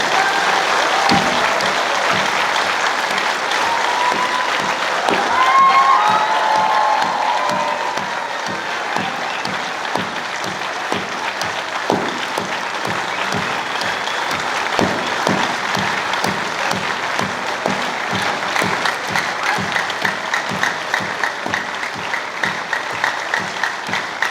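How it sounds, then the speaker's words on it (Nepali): A large audience at a political speech by Nepal's Prime Minister KP Sharma Oli breaks into loud, sustained applause. The dense clapping continues evenly for about half a minute, with some crowd noise mixed in. "सबैले कमसेकम सबैले आधा मिनटसम्म जोरदार ताली लगातार बजाउँदै"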